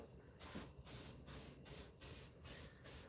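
Several short bursts of aerosol spray hissing from a can, evenly spaced with brief pauses between them, close and fairly loud.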